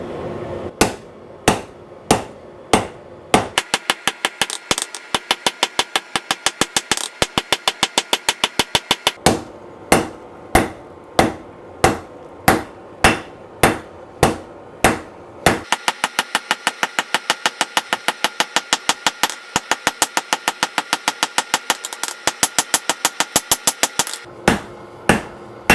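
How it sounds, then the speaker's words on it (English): A hammer forges 80CrV2 steel over the edge of an anvil, ringing in sharp strikes: single spaced blows alternate with long rapid bursts of repeated hits, close and loud, with no talk. "just going to go over the edge of the anvil and make a set down right there where I want to separate that material"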